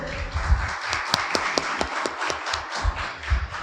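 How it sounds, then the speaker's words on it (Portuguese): A church congregation claps in a steady rhythmic beat, the sharp claps close and evenly spaced over a low rumble. "Você pode aplaudir o Senhor mais uma vez?"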